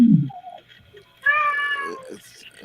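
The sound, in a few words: cat yowling like a cat in heat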